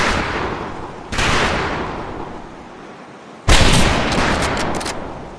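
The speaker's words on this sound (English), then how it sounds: "Nice shooting, Davy Crockett." Rifle shots on a practice range in the World War II video game Medal of Honor: Pacific Assault: two loud, booming reports several seconds apart, each trailing off into a long echoing decay.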